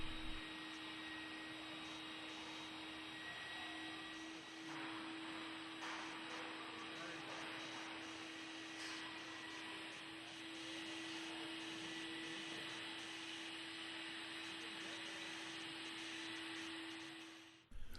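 Vacuum cleaner sucking drilled-hole debris from a concrete floor while a machine base frame is installed, a steady whining hum running the whole time with a constant tone and slight variations as the nozzle moves.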